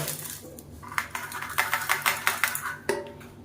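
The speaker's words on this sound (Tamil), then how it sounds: "இப்போ ஒரு மிக்சி ஜார் எடுத்துக்கலாம் இப்போ வறுத்து வச்சுருந்த கொள்ளு மிளகாய் எல்லாத்தையுமே சேர்த்துக்கலாம்" Roasted horse gram and chillies are tipped into a mixer jar, giving a quick run of light, hard rattles and clinks against the container that ends with one sharper clatter.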